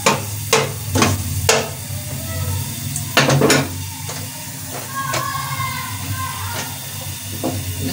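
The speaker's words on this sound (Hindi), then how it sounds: "के बाद डालेंगे लहसुन थोड़ा सा ब्राउन हो जाए" Garlic frying in oil for masoor dal, a steady sizzle running underneath as a utensil knocks and scrapes against the pan several times, the clinks sharp and close.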